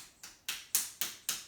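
A palm taps and pats the arm in a yoga self-massage, five crisp, evenly spaced slaps about a quarter second apart, close and clear with quick fading tails.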